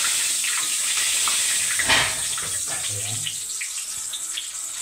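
Water running from a kitchen tap during handwashing, a steady close gush with a brief louder splash partway through, while a person speaks over it.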